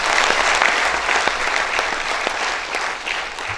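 An audience at a school felicitation day ceremony gives a round of applause, a dense, steady wash of many hands clapping together. It comes through loud and full from start to finish and eases off a little toward the end.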